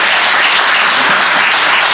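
An audience at a business roundtable event applauds steadily, a dense, loud wash of many hands clapping with no break.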